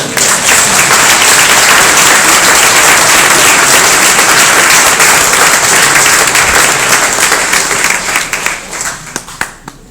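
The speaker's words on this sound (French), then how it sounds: "On les applaudit." A hall audience at a French town meeting gives loud, sustained applause, dense clapping from many hands filling the room before thinning into scattered claps near the end.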